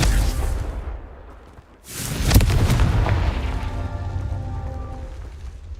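A Confringo blasting spell in Hogwarts Legacy erupts into a loud, close explosion, a sharp boom that dies into a long rumbling tail after a brief quieter lull.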